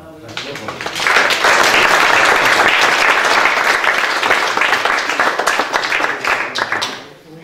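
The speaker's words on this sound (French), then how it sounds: "Je crois qu'on peut encore applaudir." Sustained applause from an audience at a lecture on astrolabes, dense and loud, rising quickly after a second and holding steady for several seconds before fading at the end.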